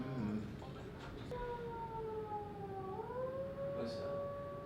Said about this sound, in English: That sounded like an ambulance upstairs.